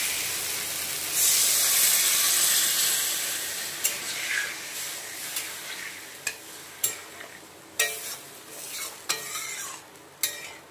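Water is poured into a hot pan of fried spice paste made with turmeric, salt and tomato, raising a loud burst of hissing steam. The sizzle then fades while a series of sharp stirring scrapes repeats at a steady pace.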